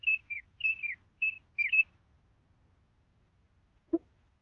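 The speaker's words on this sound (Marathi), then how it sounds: "आणि इकडे खूप सुंदर पक्षी ओरडतायत," Black birds in a tree give a quick run of loud, high chirping calls over the first two seconds, then fall quiet until a single sharp click.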